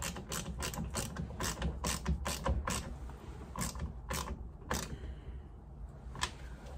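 A 10mm ratchet clicks in quick, rapid bursts while tightening a Cali mirror onto a Subaru Sambar. The close, crisp clicking comes in runs with brief pauses, and no one talks.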